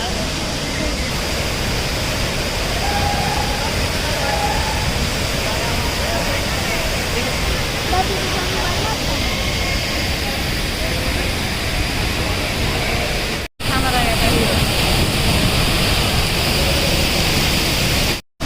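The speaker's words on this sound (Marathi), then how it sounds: "आम्ही आलोय सवत कडा धबधब्याला" Savatkada waterfall at Kadgaon near Gargoti, Kolhapur, gives a loud, continuous broadband roar of falling water at close range, with a brief dropout and faint voices beneath.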